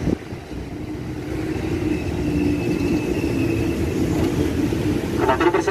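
KRL commuter train pulling into a platform at Cikini station, Jakarta: a steady loud rumble of wheels and motors, with a faint high whine, continuing throughout and building slightly toward the end.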